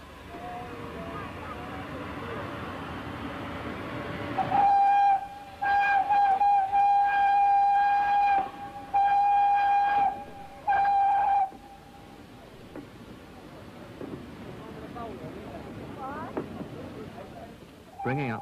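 The steam locomotive Duke pulls away, sounding a series of loud, steady whistle blasts of varying length over a rumbling background, then continuing with quieter running noise once the whistling stops.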